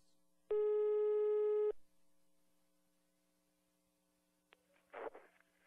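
A telephone line during a prank call gives a single steady electronic tone lasting just over a second over a low mains hum, then a quiet stretch followed by a few brief clicks and rustles.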